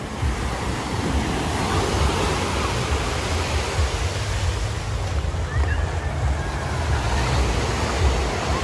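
Ocean surf rolls steadily onto Copacabana beach in Rio de Janeiro on a carnival day, a continuous loud wash of waves mixed with wind buffeting the microphone.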